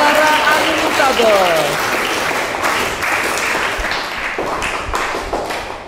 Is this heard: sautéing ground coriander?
no